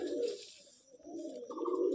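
Old Madrasi pigeons in a loft in Basirhat give soft, low, rolling coos up close, in two short bursts with a faint higher chirp near the end.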